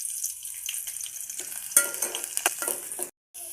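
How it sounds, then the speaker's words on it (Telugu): Onions tipped into hot oil for a cucumber curry, giving a close, continuous crackling sizzle with scattered pops and stirring clatter before the sound cuts out abruptly near the end. "నూనె కాగింది, ఉల్లిగడ్డలు వేసుకోవాలి"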